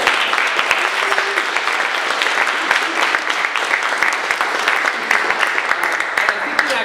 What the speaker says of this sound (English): I just want to give him a hand of applause.